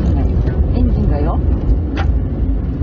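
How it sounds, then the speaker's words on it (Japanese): Car engine running steadily on a rough road through an abandoned village in Gunma, a continuous low rumble close by with people talking over it. "エンジンがよ。"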